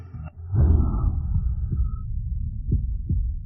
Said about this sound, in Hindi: ये तो दिल की धड़कन है। इतनी तेज।